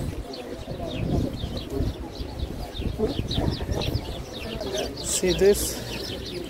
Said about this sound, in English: In all this valley, you can see here, the pigeons are living there.